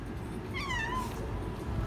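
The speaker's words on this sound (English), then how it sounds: "Kitty cats everywhere." A house cat gives a single drawn-out meow, clear and moderately close, over a constant low background hum, with no talking.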